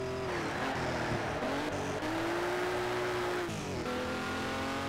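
Ferrari race car engine in Ferrari Racing Legends, a loud continuous engine tone that rises and falls with gear changes and short dips, heard alone without talk.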